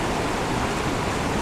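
Tokul Creek waterfall in Washington pours with a steady, broadband rushing hiss at close range, unchanging throughout with no voices.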